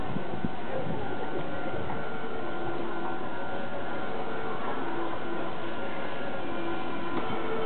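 A Meitetsu 1000/1200 series Panorama Super limited express bound for Gifu pulling into Chiryu station on the Nagoya main line, a steady loud rumble of wheels and motors with a faint hum throughout.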